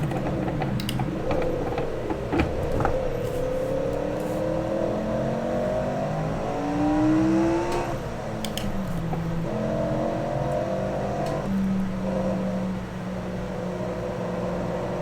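A racing car engine in Assetto Corsa on the 1966 Monza circuit, a steady loud drone with pitch falling through several downshifts and then rising again, with faint clicks of controller input above it.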